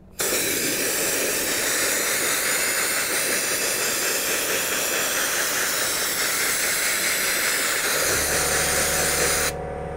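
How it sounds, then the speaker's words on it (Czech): Continuous loud hiss of a sandblaster firing quartz sand at 6 bar against a dark glass beer bottle, steady and close for nearly the whole stretch before cutting off near the end. "s tímhle křemičitým pískem můžu klidně pískovat lahev i tlakem 6 barů"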